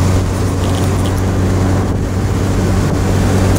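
Mazda MX-5 convertible engine pulling uphill, a steady loud low drone with heavy wind rush over the open cabin, continuous throughout.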